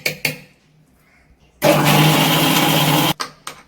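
A mixer grinder whirs loudly, grinding peanuts with water into a chutney in a home kitchen. A short pulse comes first, then one sustained run of about a second and a half, followed by brief clicks and stops.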